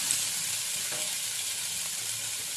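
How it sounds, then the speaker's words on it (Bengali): Fish pieces fry in very little smoking-hot oil, giving a steady, even hiss that stays close and fairly quiet throughout, with no voices. "খুব কম তেল দিয়ে আমি ভাজাটা প্রথমে ভেজে নিই"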